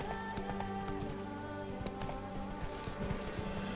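Rapid clip-clop of a horse's hooves galloping in The Witcher 3, a steady rhythm set against game music and ambient sound.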